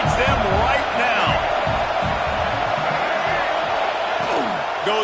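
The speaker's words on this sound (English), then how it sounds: "This crowd knows this defense needs them right now." A football stadium crowd roars and cheers for the home defense, a dense, loud, sustained wall of noise with whoops rising through it and a commentator talking over the top.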